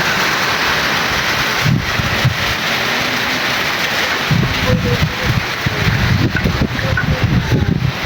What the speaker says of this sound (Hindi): एबटाबाद में बारिश का सिलसिला शुरू